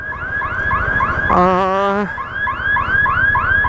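A railway crossing siren sounding before a train arrives on a road in Nadia, India: a loud, repeating electronic warble in rapid cycles, interrupted by a short steady stepped tone, heard close over a constant low rumble of traffic.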